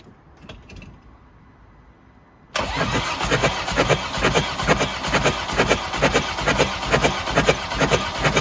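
A Ford Transit MK7 engine is cranked during a compression test: after a quiet start, a loud, rhythmic chugging of repeated compression pulses begins and continues steadily at close range, with no talking.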